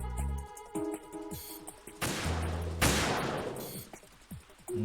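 Sniper rifle fire in Metal Gear Solid 2, a couple of sharp loud cracks with broad noisy bursts rising out of a game music bed, spaced apart, with no talking.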